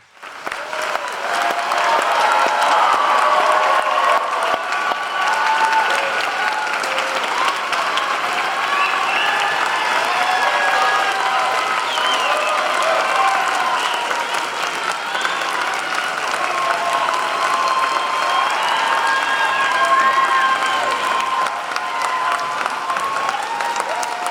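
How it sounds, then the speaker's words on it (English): Sustained audience applause fills a graduation ceremony hall after a salutatorian is introduced, a dense, steady wash of many hands clapping at even loudness for over twenty seconds, with faint crowd murmur and no speech. "At this point, we may applaud."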